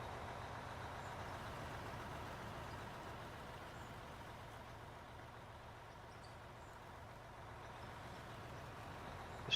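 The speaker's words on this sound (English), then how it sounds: "This truck sucks fuel." A truck engine in a mining video game runs continuously, a steady low rumble holding at an even level with no voices.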